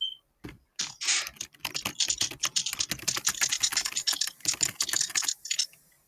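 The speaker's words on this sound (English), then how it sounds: "Do you guys like the keyboard sounds?" Rapid typing on a computer keyboard, dense close clicks and clacks in a steady uneven stream with brief pauses, no voices.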